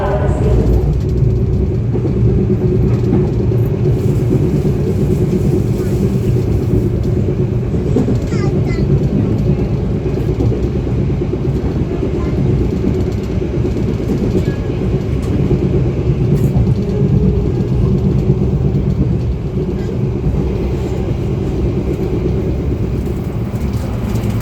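Steady low rumble of the Sancaka passenger train departing, continuous and fairly loud, with faint voices murmuring underneath.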